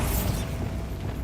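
A Bombarda spell explosion in Hogwarts Legacy, a loud broadband blast with a rumbling low end and crackling mechanical debris that quickly fades.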